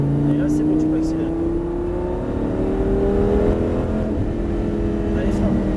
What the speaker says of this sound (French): Et là, c'est bon, tu peux accélérer.